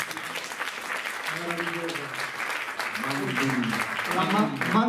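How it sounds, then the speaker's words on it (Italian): Applause for a song on an Italian news broadcast, a dense clapping wash heard under an overlapping voice, growing slightly louder toward the end. "Un applauso a questa canzone,"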